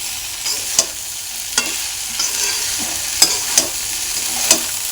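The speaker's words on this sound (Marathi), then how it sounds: "आता हे सर्व मिश्रण एकत्र करून घ्यायचं आहे बघा" Kande pohe mixture being stirred in a pan over faint frying sizzle, with a spoon scraping and tapping the pan in a few sharp, irregular clicks.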